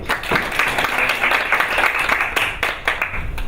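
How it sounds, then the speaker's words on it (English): A conference audience applauds before a luxury research presentation, dense clapping of moderate loudness that rises and thins with a few sharp individual claps standing out near the end. "applauding before the presentation"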